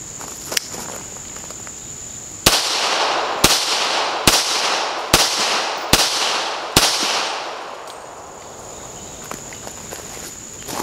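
Six sharp pistol shots from a Dan Wesson 1911 crack out at an outdoor range, spaced roughly a second apart and loud and close, over a constant background of insect buzzing.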